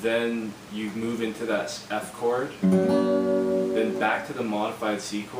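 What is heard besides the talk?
No everyday noise stands out behind the speech.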